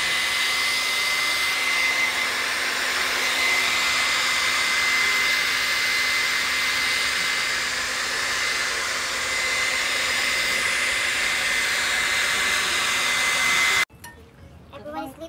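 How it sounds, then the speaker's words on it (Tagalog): A hair blow dryer roars steadily and close for most of the time, a loud even whir with a faint whine, then cuts off abruptly near the end. "blower pa lang yan guys"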